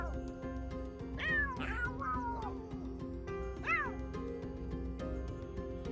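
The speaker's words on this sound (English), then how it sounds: "Tundra seems to be very curious about the Tide Clan cats" Cats in The Sims 3 meow several times over soft background music, with a cluster of rising calls early on and another cry a few seconds later.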